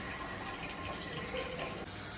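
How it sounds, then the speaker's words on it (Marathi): Minced mutton in a pan gives a steady, close hiss and crackle of sizzling with a wet, watery texture, continuous and unbroken with no one talking. "बघा असं चांगलं चरचर चरचर चरचर आवाज आला पाहिजे."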